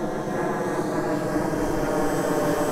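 H-King Yak-11 RC model warbird, 1450 mm wingspan, flying overhead: a steady, continuous electric motor and propeller drone with a slight tonal whine, holding fairly constant loudness throughout.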